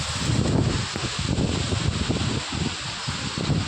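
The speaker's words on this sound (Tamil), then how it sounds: "இன்னைக்கு சரியான காற்று அடிக்குது." Strong wind gusts across a mango farm, a broad rushing, buffeting roar with rustling that surges and dips unevenly, close and fairly loud, with no voices.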